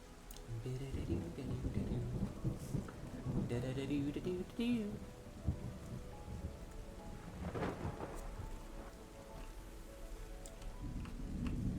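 Rain and rolling thunder from the video game Terra Nil, a steady wash of rainfall with low rumbling thunder swelling and fading throughout, while someone talks over it.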